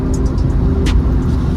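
A modified 400 hp Subaru WRX with an FBO turbo setup pulls hard, a loud, close engine roar with rumble and short hissing turbo flutter bursts over it.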